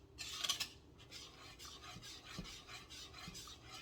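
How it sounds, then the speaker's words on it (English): Cheese sauce for mac and cheese being whisked in a pot, soft quiet scraping and swishing strokes repeating in an uneven rhythm, with a brighter rasp near the start. "keep stirring it, whisking it in nice."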